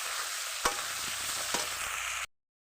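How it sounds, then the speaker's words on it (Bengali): Potatoes with turmeric and salt fry in a pan with a close, steady sizzle, punctuated by two distinct scraping taps of a spatula stirring them before the sound cuts off abruptly. "দিয়ে ভালো করে আলুটা নেড়ে চেড়ে খুব সুন্দরভাবে ভেজে নেব"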